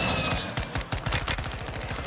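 Chimera rifle gunfire in Call of Duty, loud rapid automatic bursts cracking in a fast, steady rhythm from start to finish.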